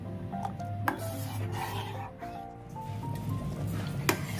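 Spoon scraping and rubbing through thick raw mango jam in a pan on a low gas flame, steady irregular strokes up close over a faint tonal background hum.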